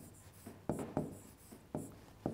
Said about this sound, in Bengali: তাহলে আমি শব্দটা একটু লিখছি